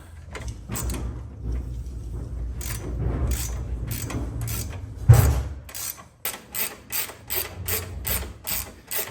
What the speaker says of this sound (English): Hold that back nut in place while we tighten this front bolt down.